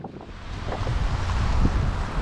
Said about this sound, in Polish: Wiecie, jaki wiatr?